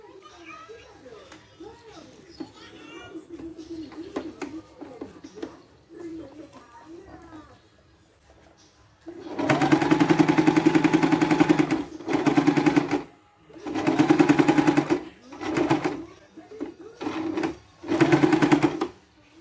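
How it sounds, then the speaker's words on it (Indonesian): A sewing machine stitches a 3D fabric face mask in loud, close bursts of rapid mechanical chatter, several runs separated by short pauses, with a quieter stretch of talking and children's voices beforehand. "Oke, kita jahit ya di sini."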